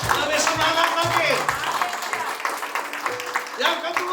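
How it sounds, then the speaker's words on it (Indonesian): Congregation applauding in a church during a Pentecostal worship service, a steady mix of many hands clapping with voices and talk over it, a short lull near the end, then clapping swelling again. "Tepuk tangan yang meriah buat Tuhan"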